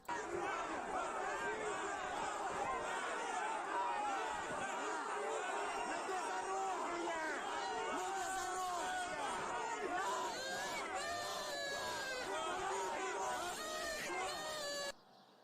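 A dense street crowd in Kherson chatters and calls out, many overlapping voices forming a loud, continuous hubbub that cuts off abruptly at the end.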